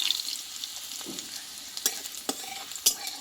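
Nigella seeds, slit green chillies and turmeric hitting hot oil in a pan, a short close sizzle and spitting with a few sharp pops and stirring clicks.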